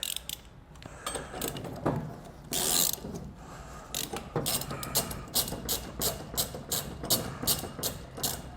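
A ratchet clicks in rapid repeated bursts while the spare tire is lowered from beneath a 2019 Chevrolet Silverado. The metallic clicking is close and steady, with a few clunks mixed in and no talking.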